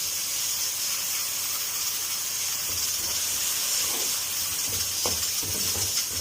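Ginger garlic paste hisses and sizzles steadily in hot oil in a home kitchen pan, a broad, even frying noise held at moderate level throughout with no talking.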